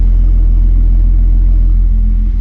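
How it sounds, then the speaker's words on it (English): A turbocharged Mk3 VR6 Volkswagen wagon engine idles steadily with a deep, smooth rumble, close and constant throughout, with no voices. "Car's been idling super nice."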